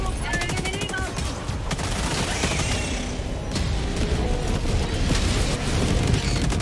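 A heavy machine gun rattles in rapid sustained bursts with booming impacts during Helldivers 2 combat, loud and close, while players talk over the firing.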